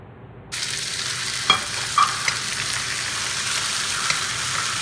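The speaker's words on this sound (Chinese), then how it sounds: "煸炒2下就倒入黄瓜" Cucumber with shredded scallion and ginger hits a hot wok and breaks into a loud, steady sizzle, with a few sharp clacks of a spatula stirring and tossing it, and no voices.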